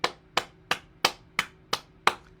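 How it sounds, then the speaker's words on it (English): A single person claps hands seven times in an even, steady rhythm during a group morning bounce exercise session, each clap crisp, close and moderately loud with short gaps between. "let's all clap for something"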